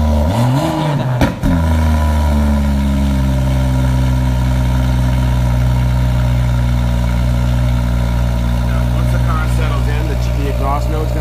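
A BMW X4 M40 rumbles close by, revving once briefly and then settling into a steady deep idle. A person speaks over the engine.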